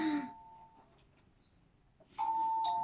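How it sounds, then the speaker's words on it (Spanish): A house doorbell chimes twice, a clear ding then another tone after a pause of nearly two seconds, fairly close and alone with no talking. "Ese es el timbre de la casa."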